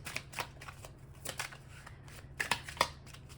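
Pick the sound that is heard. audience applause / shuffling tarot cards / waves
shuffling tarot cards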